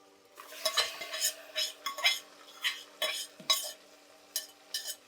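Rhythmic scraping of a spatula stirring mutton frying in a pan, about a dozen strokes with metallic clinks over a faint sizzle.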